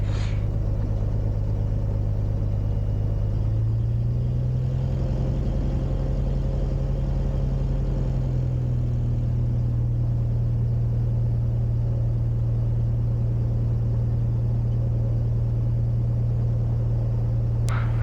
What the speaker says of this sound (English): we're going to go ahead and taxi and take off